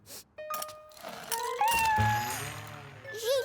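Gilbert, the cartoon cat, lets out several short meows and a drawn-out whining mew, close and clear, mixed with light background sounds and a brief voice.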